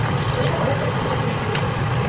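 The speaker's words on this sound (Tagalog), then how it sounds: "Then, maglagay tayo ng water." Water pours from a tap or container into a pot of chicken adobo, making a steady, close splashing stream for about two seconds.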